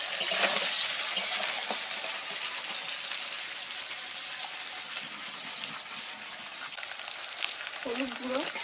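Boiled banana with onion and spices fries in a pan, a loud steady sizzle filling the whole stretch, with a few faint scrapes and a brief low thud near the end.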